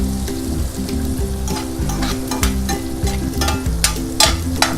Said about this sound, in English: Just frying them very slow.